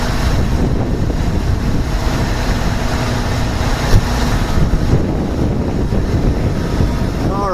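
Wind swirling around outdoors beside a fire apparatus, a steady rushing roar buffeting the microphone throughout, close and continuous with faint background rumble.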